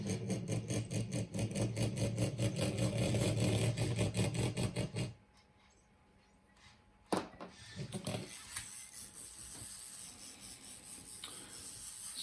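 Small motors of a Velleman micro bug robot, a transistor-driven insect kit, buzz in a steady rapid pulsing whir for about five seconds, then cut out, leaving faint rattles and a quieter intermittent hum.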